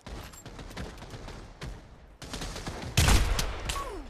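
Musket fire in the Pavlov VR shooter: a string of scattered distant shots and clicks, then a louder close blast near the end followed by a descending whine.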